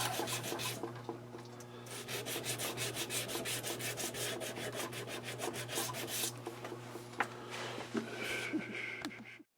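Flintlock pistol barrel from a Pedersoli kit hand-sanded with 320 grit cloth-backed abrasive, a close rapid run of back-and-forth rubbing strokes that slows into a few scattered scrapes, no talking.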